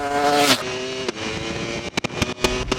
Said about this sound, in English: this is Ducati's Panigale V4R